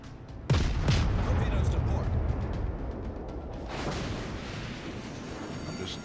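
A destroyer in World of Warships, a Tier 4 Clemson, launching torpedoes from its tubes. A loud sudden boom gives way to a sustained rumbling roar with a second surge later, and a voice talks under it.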